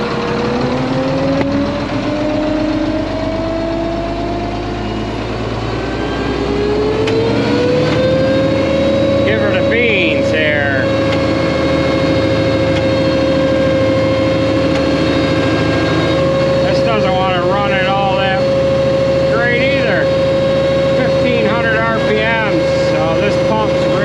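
A gas engine drives a pump on a septic poop-pumping rig fitted with a 60/30 gearbox, running loud and steady with a rising rev early on; someone talks intermittently over the close, continuous drone.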